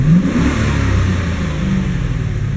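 A Chevy Silverado's 5.3 engine with lifter tick revs up, a loud steady mid-pitched engine roar throughout with a brief rise at the start and no talking.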